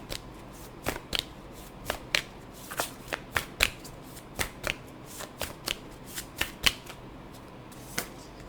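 A deck of cards is shuffled for a tarot-style card reading, giving a series of crisp riffling flicks and snaps at irregular intervals, close and fairly quiet with no talk.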